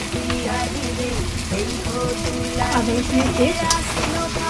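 Ginger-garlic paste sizzles in hot oil for a chicken tehari, a continuous frying hiss broken by spoon scrapes and stirring against the pot.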